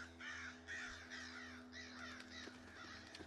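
Crows caw repeatedly in Darkwood, the survival horror game, with harsh, rhythmic calls over a low steady hum of ambience and no speech.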